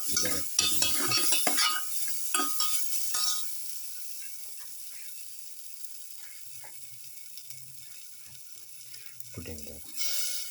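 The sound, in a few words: stirring chili in frying pan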